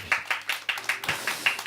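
A church congregation claps together in a steady, rhythmic beat, sharp repeated claps in even succession, moderately loud and close, with no talk over it.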